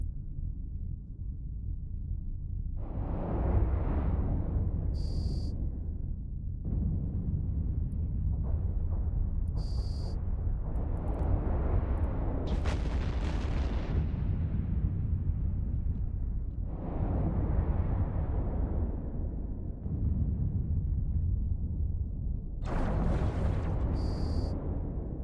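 Spaceships trade fire in EVE Online, with low rumbling bursts of weapon blasts and impacts rising and falling in waves over a deep background drone, punctuated by short high electronic alert tones.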